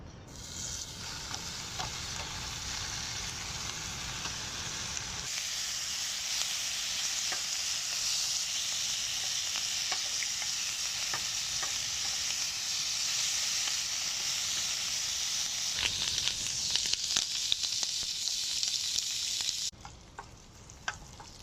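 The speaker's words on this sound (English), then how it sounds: "some of you are cringing me using this metal fork on this non-stick pan" Food frying in an old, well-worn non-stick pan at a camp by a rocky bay, with steady loud sizzling and hiss throughout and scattered scraping clicks as a metal fork stirs it.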